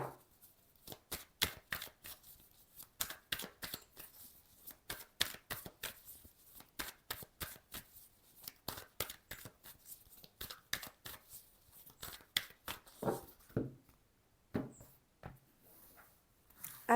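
Oracle cards being shuffled by hand in a quiet room, a rapid run of crisp riffling bursts that repeat steadily and close up, with a few slower rustles and taps near the end.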